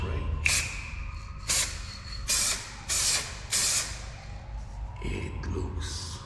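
Several short hissing bursts of a gray spray paint can, each lasting about half a second, separated by brief pauses, close and fairly loud.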